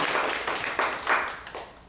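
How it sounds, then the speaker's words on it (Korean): Church congregation applauding during a Sunday worship service, a short burst of clapping that swells and fades over about two seconds. "우리 창근이 위로의 박수 한번 해줘요"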